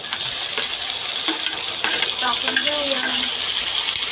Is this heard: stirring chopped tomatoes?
yes